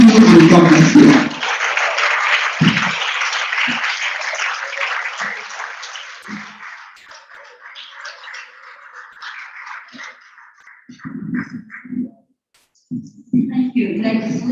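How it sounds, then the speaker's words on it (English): An audience at a forum on women's political representation claps in a burst that thins out over several seconds into scattered claps, then people talk over a quieter room. "Another round of applause for her."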